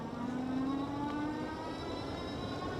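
A Mokwheel Scoria e-bike motor pulls on throttle alone, giving a steady electric whir. One tone rises as the bike picks up speed, with faint road and wind noise under it.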